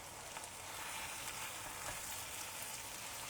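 Pieces of vegetarian chicken cutlet fry in a pan with a steady, close, dense sizzle that crackles without pause and has no talk over it.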